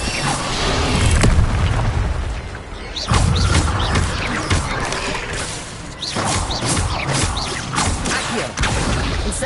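Fiery spell blasts from Hogwarts Legacy, a series of loud booming bursts and whooshes in quick succession, with dense crackling between impacts and no talk.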